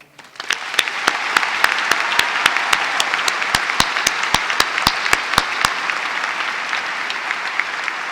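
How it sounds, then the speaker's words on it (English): Steady round of applause from a commencement crowd, moderately loud and even, with a few distinct sharp claps standing out rhythmically above the dense clapping for most of the clip. "Would you please now join me in a round of applause?"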